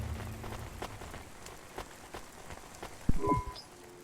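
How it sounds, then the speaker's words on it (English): Steady rain falls in the city of the video game Cloudpunk, a soft hiss of drops on surfaces with scattered ticks and a brief low thump near the end. "Don't let all the rain get you down."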